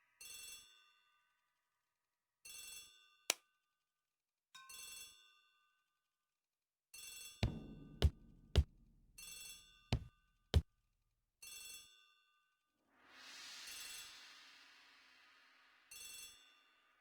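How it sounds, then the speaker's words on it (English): A telephone bell in a hall rings in repeated short bursts at a steady spacing, with a few sharp knocks and a soft rushing swell in between. "The telephone in the hall is ringing."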